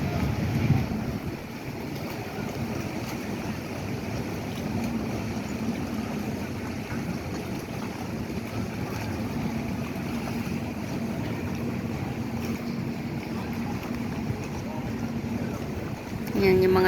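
A speedboat motors along the Grand Canal in Venice, giving a steady low engine drone mixed with water wash and wind, continuous and moderately distant throughout. Faint voices can be heard in the background.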